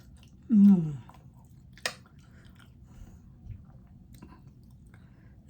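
Spoon and mouth sounds of someone eating hot bottle gourd rice with pickle, a short close crunchy chewing burst followed by a brief tap, then quiet.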